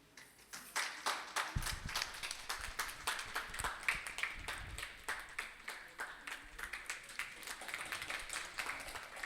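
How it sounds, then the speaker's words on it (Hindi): An audience at a mushaira and kavi sammelan in Jabalpur applauds to welcome a guest, a long run of brisk, uneven claps in a hall, fairly faint, with some voices mixed in. "आप सब तालियां बजाकर उनका सहयोग करेंगे"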